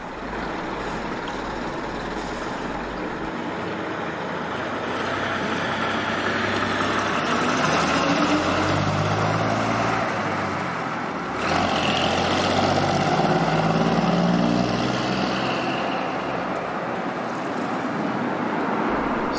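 Crosville Bristol VR double-decker bus making the turn from Cliff Road onto Breck Road on the 124 route, its diesel engine a steady low rumble that swells as it pulls through the corner, heard from on board with no talk.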